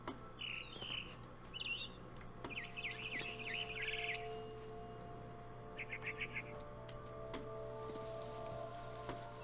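Bursts of quick chirping from a barn swallow in What Remains of Edith Finch come and go over a steady low ambient drone, with sparse faint ticks between the calls.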